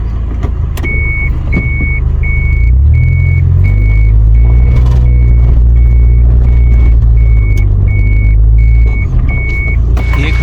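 A jeep reverses near a deep water crossing, its reversing alarm beeping steadily about twice a second over a loud, close engine that revs up partway through and then settles.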